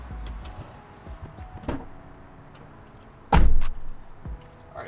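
A car door is opened during an LED interior light conversion: a soft click, then a sharp, loud latch clunk a moment later, with quiet room noise between.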